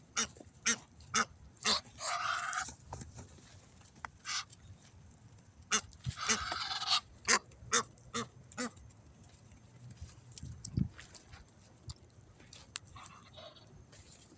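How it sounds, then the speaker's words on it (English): Repeated short honking calls from a flock of geese, loud and irregular, some overlapping in bursts, with quieter gaps and light background noise. "Those are the geese"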